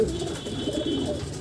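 Pigeons coo softly and continuously on a rooftop breeding loft, with a low murmur of overlapping calls.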